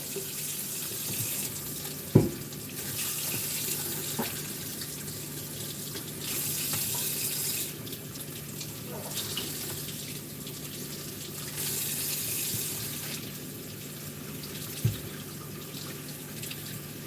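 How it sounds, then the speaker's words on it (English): A cold water tap runs steadily into a sink to cool something, a soft continuous stream with a few brief clunks and drips. "Now I'm going to use cold water here to water cool it."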